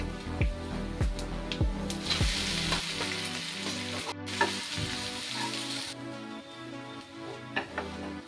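Grated potato for aloo bonda sizzles in a hot pan, with steady frying crackle and repeated scraping knocks of a spoon stirring it, close and without talk.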